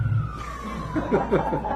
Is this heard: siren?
yes